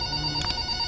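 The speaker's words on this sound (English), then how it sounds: "Alright, let's pick up the phone." In the Forgotten Memories video game, a telephone gives a brief electronic ring over a steady background hum.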